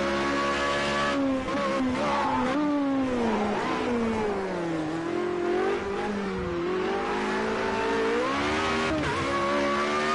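A Formula Renault race car in Project Cars 2 at Monza howls continuously close up, its engine pitch sweeping up and down through gear changes and corners with no talk over it.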